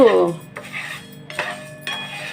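Sesame seeds and lentils dry-roasting in a metal pan, heard as loud clanks and scrapes of a spoon against the pan in a few distinct strokes, close up.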